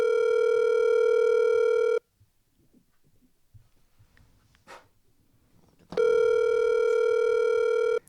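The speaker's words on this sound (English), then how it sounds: "It's ringing." Telephone ringback tone during an outgoing call, a steady harmonic tone lasting about two seconds, then a long quiet gap, then the tone returning loud and close.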